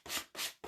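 A sanding block rubs back and forth across a rough edge of a cutout, giving three quick, close abrasive strokes in steady rhythm with no talking.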